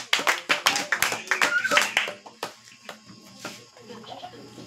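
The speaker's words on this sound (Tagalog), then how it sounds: "Isang palakpak sa Panginoon." A congregation at a revival crusade gives a round of clapping, dense and loud at first, then thinning into scattered claps with murmuring voices and shuffling.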